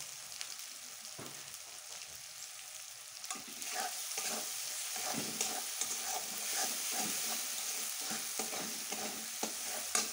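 Spices with turmeric sautéed in a pan for dhaba-style chana aloo ghugni give a constant close sizzle, with rhythmic scraping stir strokes getting busier and denser partway through.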